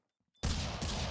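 A single loud gunshot from the mobile shooter game Critical Ops bursts in after near silence, its sharp blast ringing and sustaining to the end.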